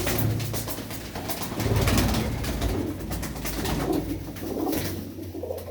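Pet pigeons in a loft cooing softly and repeatedly at close range, with low throaty coos rising and falling over a rustling background, no voices.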